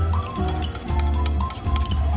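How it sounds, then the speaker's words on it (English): Stirring a moringa massage oil mixture with eucalyptus oil, a series of close clinks and taps against a container mixed with liquid swishes, irregular and fairly loud, with no voices. "So we just have to stir."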